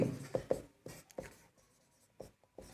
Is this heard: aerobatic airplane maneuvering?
no